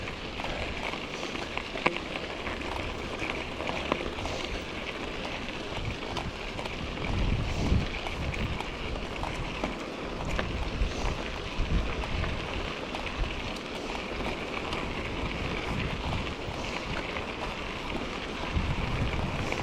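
Steady, loud wind rushes and buffets against the microphone with no break while travelling a mountain route from Ellensburg to Greenwater.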